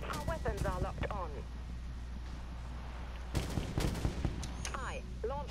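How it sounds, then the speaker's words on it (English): Missile salvos launch from a warship in the Dreadnought space combat game, with sharp bursts and whooshing blasts breaking out amid a steady engine drone, while voices speak over the action. "Launching missiles."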